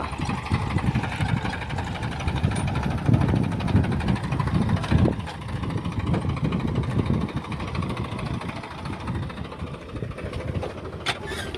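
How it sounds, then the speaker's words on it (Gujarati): A tractor engine runs steadily in an onion field as the tractor turns, a continuous mid-pitched rumble holding near and fairly loud for the whole stretch with no voices. "અત્યારે ટ્રેક્ટર વળે છે"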